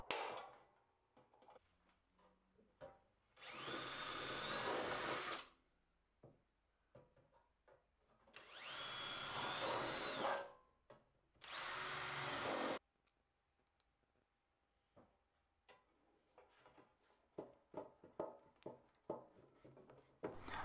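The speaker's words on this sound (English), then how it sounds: "mark out a few holes where I can drill" Power drilling of holes through plywood and driving screws into a dustpan: three loud, sustained whirring bursts, each a few seconds long, separated by scattered clicks and knocks of handling, with a quieter stretch of taps and rattles at the end.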